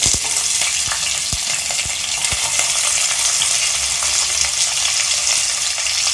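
Whole spices, including fennel seeds, splutter and crackle in hot oil inside a pressure cooker, a steady close sizzle with sharp pops scattered throughout and no voices.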